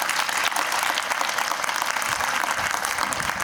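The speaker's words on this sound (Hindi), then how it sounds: "मैं चाहता हूँ सुभाष जी के लिए भी एक जोरदार तालियां।" An audience at an Independence Day celebration claps loudly and steadily, dense applause from a crowd filling the whole stretch without any speaking.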